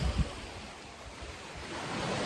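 Sea waves wash onto an empty beach at a resort, a steady broadband rush with a slight swell toward the end and some wind buffeting the microphone, with no voices.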